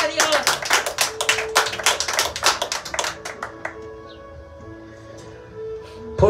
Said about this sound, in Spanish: Dele palmas a mi Cristo.